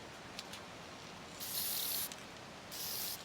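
Clear coat sprays from a can onto a guitar body in two steady bursts of bright, close hiss, each roughly half a second to a second long, separated by a quiet pause with faint clicks.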